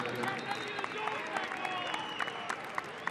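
Crowd applauding at a soccer match between El Paso Locomotive FC and Austin Bold FC, scattered clapping and crowd noise heard from a distance, faint and uneven over about three seconds, with sharp claps poking out.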